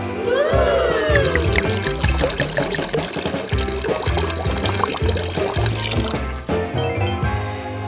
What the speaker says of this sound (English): Let's fill it with water.